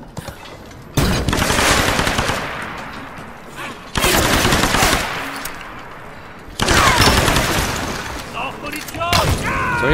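Heavy gunfire in Tomb Raider comes in three long, loud sustained bursts of rapid automatic fire, separated by short quieter gaps of battle noise.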